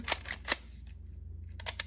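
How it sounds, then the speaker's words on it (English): A 3A camera shutter is cocked and fired, giving a pair of sharp, quiet mechanical clicks, a short pause, then two more crisp clicks close by. "Cock your shutter"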